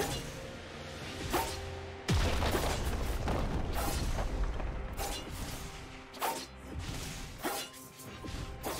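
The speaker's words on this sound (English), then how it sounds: "Red team's turret has been destroyed." A turret being destroyed in League of Legends, a heavy crashing boom followed by rumbling debris and scattered impact and whoosh effects amid ongoing game sounds.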